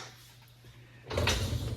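A dishwasher's upper rack slides along its rail with a short scraping rumble after a quiet moment, close and moderately loud, no talking.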